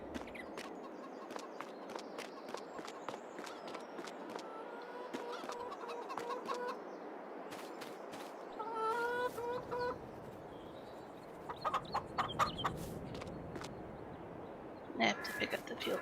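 Chickens clucking in the farming game Farming Simulator 22, repeated short clucks and squawks in irregular bursts over a low background hum, with a few louder calls toward the end.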